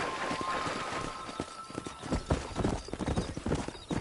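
Horse hooves clip-clop at a rapid galloping pace in a video game about herding cattle, steady and fairly close over a background of game ambience, with no talking.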